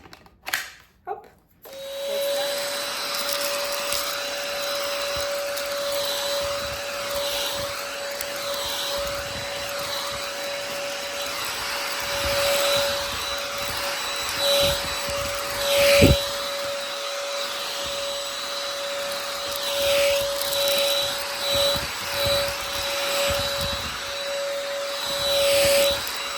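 A Vactidy cordless, self-standing stick vacuum cleaner runs close by with a steady, high motor whine and airy rush, the pitch and loudness shifting slightly as it moves over surfaces.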